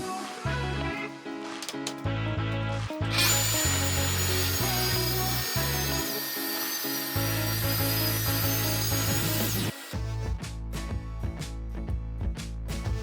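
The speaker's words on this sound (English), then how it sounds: "which I did with a FESTOOL track saw." A Festool track saw squares the sides of an epoxy slab, giving a loud, steady high-pitched cutting whine for about six seconds over tonal background music, with clunks of handling before and after.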